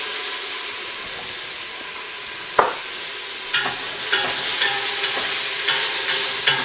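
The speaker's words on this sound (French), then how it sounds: "on va faire revenir l'oignon jusqu'à ce que c'est translucide" Onion sautés in a pan with a bright, continuous sizzle, broken by a sharp utensil knock and then a series of stirring scrapes and taps.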